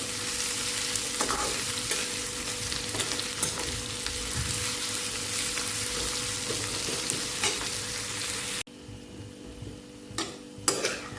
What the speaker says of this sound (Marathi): कांदा छान भाजला गेलाय